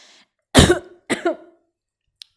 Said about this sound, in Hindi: सॉरी, खांसी आ गया था।